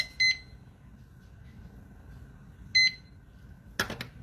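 Kitchen timer being set while cooking one-pot chicken and pasta, giving two short bright beeps about two and a half seconds apart, then a brief rattling clatter, close and clear over a quiet room.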